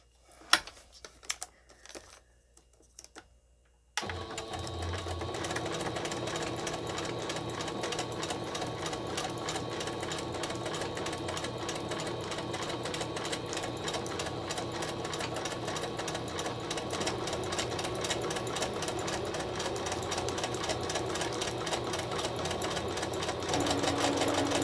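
A sewing machine stitches a bag made from upcycled cereal liner. After a few quiet clicks and rustles, it runs in a fast, even, continuous chatter for about twenty seconds without pause.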